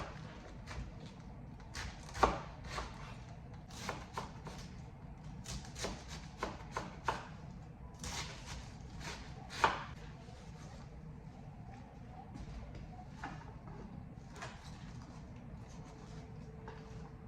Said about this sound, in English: And I'm just gonna chop this up.